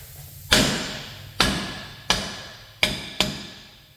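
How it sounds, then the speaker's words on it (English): Five loud, sharp hammer blows on a metal rear axle part of a 2004 Dodge Caravan land at uneven intervals, each a ringing metallic strike that quickly decays, with no talking. "we're gonna smack it with a hammer"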